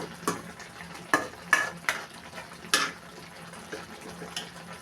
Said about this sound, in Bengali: অনেক দিন পর পোনা মাছ আর বেগুন দিয়ে চচ্চড়ি করতেছি।